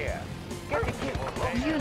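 Attack dogs in Command & Conquer: Red Alert 2 bark and yip in quick bursts over game sound effects, with someone talking throughout.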